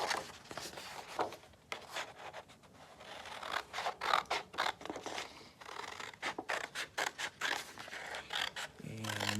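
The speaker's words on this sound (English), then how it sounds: "We have drawn out the pattern here. This is just the basic, simple pattern here for our hats. And we're going to cut it out now." Scissors cut a paper pattern for a floral gnome hat, a close run of quick, crisp snips and scratchy paper rustles that come in irregular bursts throughout.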